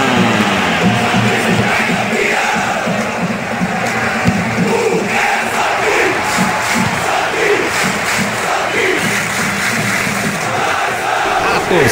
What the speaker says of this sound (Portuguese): Torcida vai à loucura